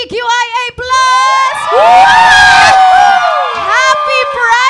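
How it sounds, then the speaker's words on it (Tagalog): A Pride Month podcast audience cheers, whoops and shouts loudly and close by, the noise swelling for a couple of seconds alongside the host's voice. "Pwede ba natin bigyan ng hiyawan mabuhay ang LGBTQIA+?"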